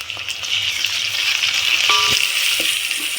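Ginger garlic paste sizzles and fries steadily in a hot pan, a loud close hiss with brief stirring scrapes.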